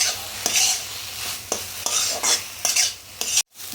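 Papaya fries in a pan with salt and turmeric while a utensil stirs it, scraping in repeated strokes over a steady sizzle, with a brief break near the end.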